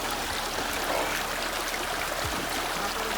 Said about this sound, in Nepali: छोरीको गाउँमा एउटा सानो खोला रहेछ